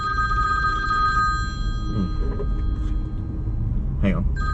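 A phone rings with steady electronic tones that run through the whole stretch, over a low background rumble, with brief voices breaking in.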